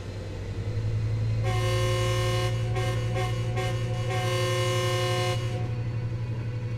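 In Train Sim World 4, an F125 locomotive starts up with a deep, steady engine rumble, joined midway by a long, loud horn-like tone that pulses briefly before fading back to the idling drone.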